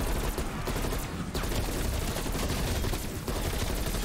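Gunfire in Call of Duty Cold War Zombies, loud, nonstop rapid automatic shooting filling the whole stretch with dense overlapping bursts and only brief slight dips.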